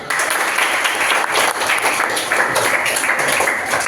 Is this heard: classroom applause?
yes